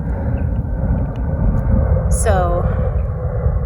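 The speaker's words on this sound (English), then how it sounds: "Sorry about the plane." Airplane passing overhead outdoors, heard as a steady low rumble beneath someone talking close by, with a brief bird call cutting through.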